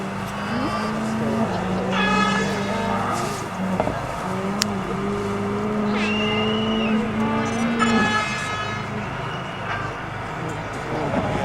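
Ford Focus rally car at speed on a Rally of Great Britain stage, its engine note rising and falling through gear changes with loud revving bursts, a commentator talking over much of it.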